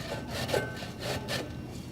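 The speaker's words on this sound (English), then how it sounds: "use the larger end of your box grater, and then all you're doing is shredding it." Cauliflower is shredded on the larger side of a box grater, producing close, rhythmic rasping strokes, about four scrapes in quick succession with no talking.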